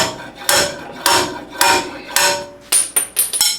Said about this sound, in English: Got my slide hammer here.